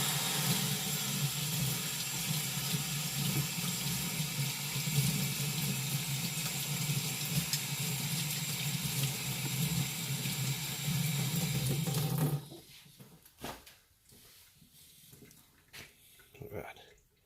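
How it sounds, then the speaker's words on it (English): Hot tap water runs steadily into a sink as snowblower parts are rinsed, a constant close splashing stream that stops abruptly, followed by quieter handling clatter. "We'll rinse it in the sink over here in hot water."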